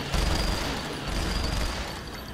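Dense, continuous gunfire crackles and booms for a couple of seconds, loud and sustained, like a firefight in the video game Saints Row: The Third.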